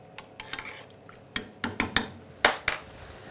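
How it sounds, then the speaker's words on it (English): Mustard powder is stirred into milk in a pan, making a series of sharp metallic clinks and scrapes as the utensil knocks the pan, about a dozen irregular hits close up with quiet gaps and no talking. "Mustard powder into the milk and gently give that a stir just to dissolve all those ingredients together."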